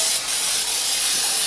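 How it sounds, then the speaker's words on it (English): Pam Perfect Release baking spray hissing into baking pans in one loud, continuous close-up spray lasting the whole moment. "I'm gonna line them with this Pam Perfect Release baking spray."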